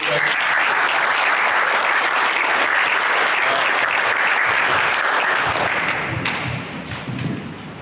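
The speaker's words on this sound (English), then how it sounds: "give them a round of applause for my wife" Loud, dense audience applause fills a large room at a live event, steady for most of the stretch before thinning slightly toward the end, with some cheering mixed in.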